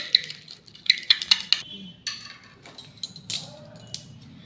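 Eggshell powder and shampoo are mixed in a bowl with a spoon, producing a close series of sharp clinks and taps against the bowl, then softer scraping strokes.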